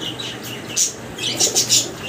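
Wing flaps from pigeons at a seller's stall offering fancy colored pigeons, several short fluttering bursts, fairly close, with faint bird calls and no talk.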